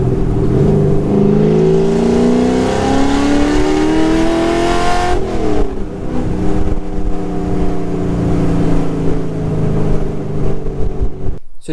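A 1969 ProTouring Camaro revs loudly up through the gears, with rising engine pitch, a shift, and then a sustained close rumble as it keeps driving.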